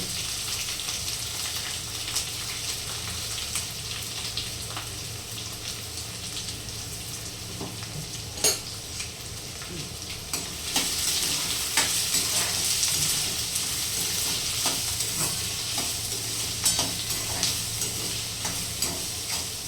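Garlic, curry leaves and onion sizzle in hot oil in a pan, a steady close frying hiss with occasional stirring scrapes and clinks throughout, no voices.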